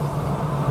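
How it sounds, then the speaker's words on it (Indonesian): Mitsubishi Pajero Sport Dakar 4x4 with a 4D56 diesel engine idling, a steady, fairly loud low hum with a constant drone, close by and with no voices. "nah ini suara mesin Pajero Sport ini memang dia suaranya ini"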